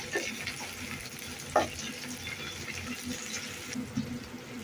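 Finely chopped onion and tomato fry in a pan for chicken kasa, a soft continuous sizzle broken by an occasional spoon knock, fairly faint and without talking.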